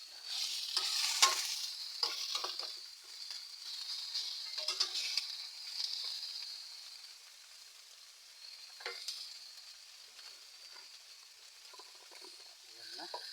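Tilapia pieces sautéing in a pan and being stirred, a soft steady sizzle with repeated scraping and clinking of the utensil against the pan, fairly quiet and close, without talk.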